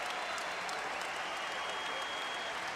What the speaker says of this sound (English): The crowd back into it at Mackey.